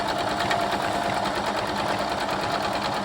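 Domestic sewing machine stitching quilt block pieces along their longest edge at a quarter-inch seam, a continuous close motor whirr holding steady for the whole stretch.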